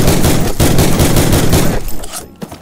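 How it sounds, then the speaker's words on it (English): Rapid rifle fire from the hip in the Call of Duty video game, a loud sustained burst of shots in quick succession for nearly two seconds, then a few scattered tail sounds as it stops. "Fire 10 rounds at your target."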